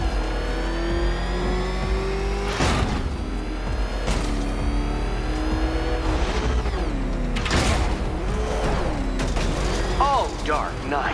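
A Batmobile engine revs and roars while driving in Batman: Arkham Knight, loud and continuous with surges and mechanical clunks, and a voice talks over it.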